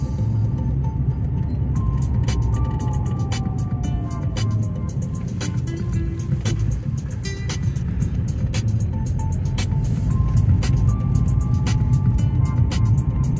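Lada Granta car driving on a frosty day, its engine and road rumble steady and close for the whole stretch, with a few faint clicks and tonal whines on top.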